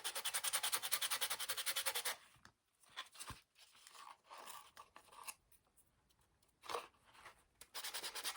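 Close, rapid back-and-forth scrubbing of sandpaper on paper, with quiet pauses and scraping in the middle before the steady sanding resumes.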